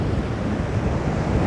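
Sea waves wash steadily over coastal rocks, a continuous broadband surge and hiss with wind noise buffeting the microphone, loud and close, with no voices.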